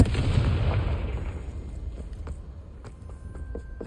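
A Confringo spell blast in Hogwarts Legacy, a loud close explosion with a booming start that decays over a few seconds into a crackling rumble with scattered small pops.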